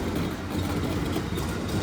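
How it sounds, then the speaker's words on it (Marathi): A passenger train pulls away from a platform at Amsterdam Central station with a continuous rolling rumble and faint wheel clatter, steady and fairly close. "इथून आता दुसऱ्या युट्रेकला चालली आहे ही वाली ट्रेन"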